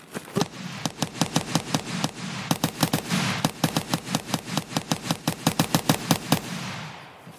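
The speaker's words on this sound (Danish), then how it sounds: "Der kom det vildt skud." Rapid bursts of automatic gunfire in Escape from Tarkov crack loudly and evenly, dozens of sharp shots in quick succession with brief pauses between bursts.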